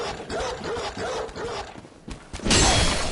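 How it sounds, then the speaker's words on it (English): A dog barks repeatedly in Bloodborne, several rough barks at moderate loudness followed by a louder burst of noise at the end. "Stop barking."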